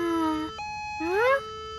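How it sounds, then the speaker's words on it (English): A short cartoon electronic siren wail: a steady tone that breaks off, then a rising sweep, fairly close and clear. "Amber, is that your siren?"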